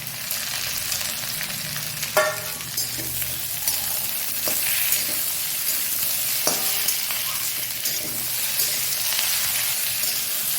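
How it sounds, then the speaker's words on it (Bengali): Bitter gourd, drumstick, potato and tomato fry together in a pan with a continuous close sizzle. Occasional sharp clicks of stirring cut through the crackle. "উচ্ছেগুলো একটু ভাজা ভাজা হয়ে গেছে এরপর এর মধ্যে আমি ডাটা আলু টমেটো সবটাই তুলে দিলাম"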